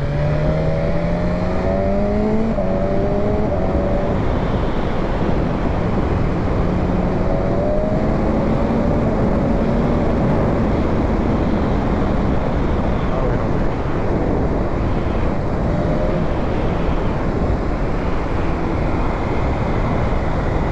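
A 2020 BMW S1000 RR motorcycle being ridden, its engine note climbing and dropping through gear changes under heavy, constant wind roar, with a rider speaking over it.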